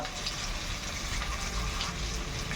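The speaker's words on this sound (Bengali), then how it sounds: "জল একটু দিয়ে দিলাম" Water poured while rinsing out a mixer jar during cooking of aloo dum, a steady close rushing gush of running water that fills the whole short stretch without a break.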